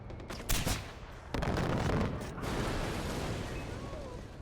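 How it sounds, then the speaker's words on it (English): Mortar blasts and gunfire in the video game Far Cry 4: sharp explosive bursts near the start, then rolling, sustained volleys of shots that trail off into lighter crackle. "Oh, they got a mortar guy."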